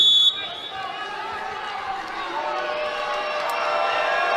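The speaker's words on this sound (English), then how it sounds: "Good crowd here at the Huntsman on a Saturday afternoon." A crowd at the Huntsman arena cheers and roars through a Saturday afternoon women's college volleyball match, swelling steadily in a broad wash of voices behind a commentator's talk.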